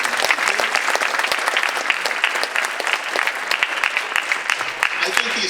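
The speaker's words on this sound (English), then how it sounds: "Let's give him a nice round of applause" Sustained audience applause at an 8th grade school winter concert, steady dense clapping from a large crowd in a hall, continuous and fairly loud throughout.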